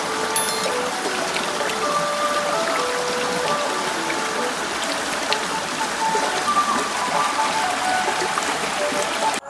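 Clean, clear stream water flowing steadily close by, a continuous bright trickling and splashing wash that stays even throughout with no voices.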